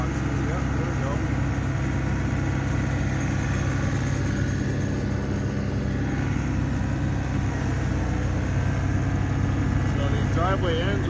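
A John Deere tractor clears snow from the end of a driveway during a snowstorm. Its engine gives a steady, loud, continuous rumble throughout, with someone talking over it.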